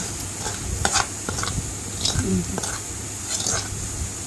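Peanuts are stirred in a hot pan, giving a low sizzle with scattered scraping and clinking strikes of a utensil against the pan at irregular intervals, close by.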